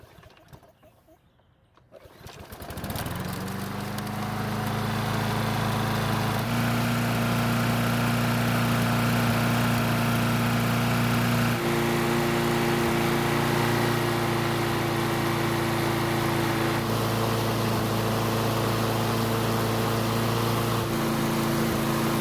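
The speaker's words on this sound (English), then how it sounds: "I'm going to start the engine and see how it runs on the gasoline that's still left in the fuel system." A Snapper lawn mower engine cranks after a brief quiet moment, catches and settles into a steady, loud, continuous idle hum that holds for about twenty seconds.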